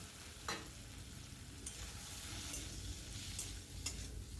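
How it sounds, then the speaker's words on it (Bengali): Fried bitter gourd stirred with mashed tomato in a pan, a soft continuous sizzle with a few scraping spoon strokes, moderately quiet and close, no voices. "ভালো করে নাড়িয়ে চাড়িয়ে নিচ্ছি"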